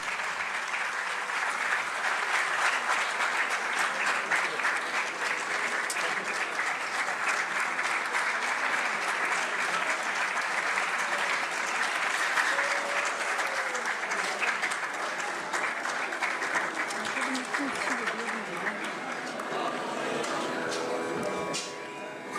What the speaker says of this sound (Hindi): उस्ताद शफकत अली खान साहब, आपकी भरपूर तालियों में।